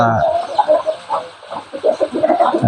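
Fighting roosters at a cockfighting training ground cluck and call in short irregular bursts, close and fairly loud, with faint voices in the background.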